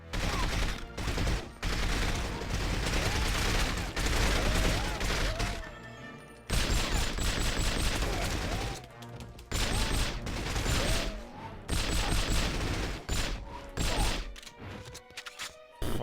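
Gunfire in the 2005 GameCube game 007 From Russia With Love: dense bursts of automatic fire broken by short pauses, mixed with mechanical clatter and impacts.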